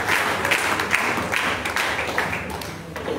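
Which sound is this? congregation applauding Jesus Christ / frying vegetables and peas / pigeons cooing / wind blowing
congregation applauding Jesus Christ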